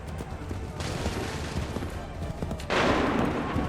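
Musket volleys and scattered gunfire from the Assassin's Creed 3 video game boom and crackle in a dense, continuous barrage, with a heavier burst near the end over constant battlefield noise.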